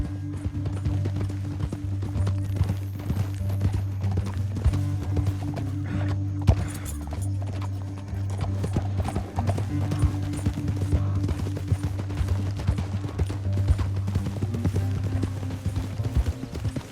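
Steady rhythmic hoofbeats of galloping horses in the video game Red Dead Redemption 2 continue throughout over a low rumbling background, dense and unbroken.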